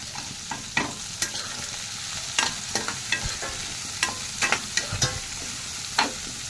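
Ginger and garlic fry in hot oil in a pan, a constant low sizzle broken by a dozen or so sharp, close spatula strokes knocking and scraping the metal.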